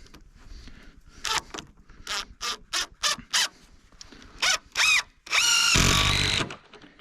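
A power drill driving a fastener into a wooden ridge beam at a scarf joint: a string of short trigger bursts, then a longer loud continuous drive, close and without talk.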